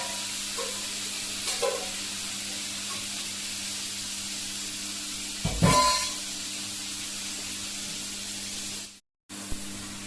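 Fatty meat frying in its own rendered fat with no oil added, a continuous close sizzle with a brief louder spatter burst midway and a momentary cut near the end.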